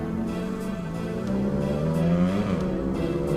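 A motorcycle engine revs on a road in Karawang, Indonesia, producing a loud, continuous drone whose pitch rises and falls as the throttle changes, with no voices.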